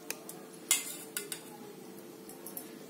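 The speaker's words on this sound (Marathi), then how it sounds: "आता याच्यामध्ये आहे ना मी हे बटाटे टाकते." Potato pieces drop into hot, boiling gravy in a cooking pot for dum aloo, giving a few soft splashes and clinks against the pot over a steady low simmering bubble, close and fairly quiet.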